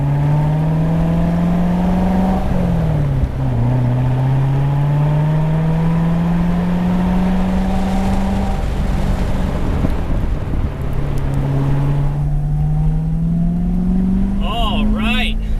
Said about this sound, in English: behind the wheel of a brand new Corvette Grand Sport with a 7-speed manual transmission